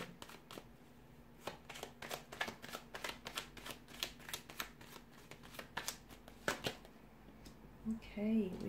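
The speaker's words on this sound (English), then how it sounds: "So I'm going to give the cards a shuffle and see what's coming up for you." Tarot cards being shuffled by hand, a rapid run of crisp riffling flicks that carries on steadily, close and fairly quiet, with a voice starting at the very end.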